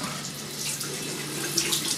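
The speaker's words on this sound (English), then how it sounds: "I'm gonna rinse my head real quick." Water from a tap runs steadily into a sink for rinsing a freshly shaved head, a continuous close splashing flow with a few brighter splashes near the end and no talk.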